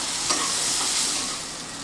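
Turmeric powder and green chilies hit hot oil in a frying pan, a loud, close, steady sizzle with a faint stir partway through.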